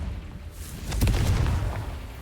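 A Confringo fire-blast spell detonates in Hogwarts Legacy, a loud, deep booming explosion with a rumbling roar that swells and lingers over a dense backdrop of game noise.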